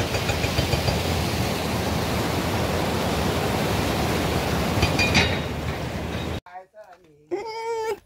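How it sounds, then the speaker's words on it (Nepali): A mountain stream in the Taplejung hills of Nepal rushes in a steady, dense roar for about six seconds, then cuts off abruptly as voices take over. "हाम्रो पहाडको खोला हेर्नु गाइस"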